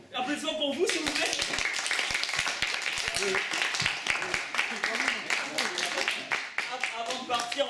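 A crowd at an improv theatre show claps and cheers continuously, dense and lively, with voices mixed into the applause throughout.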